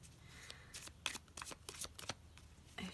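Soft repeated riffling and slapping of tarot cards being shuffled, several quick bursts close by with no talking.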